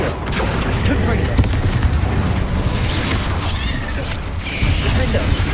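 Confringo explosive spell blasts in Hogwarts Legacy mixed with Accio and other spell effects, a dense run of cracks, booms and mechanical clatter, with talking throughout.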